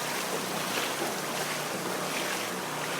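Floodwater from Hurricane Irene rushes through a brook beneath a bridge in Cranford, New Jersey, a dense, continuous roar of churning water with wind buffeting the microphone.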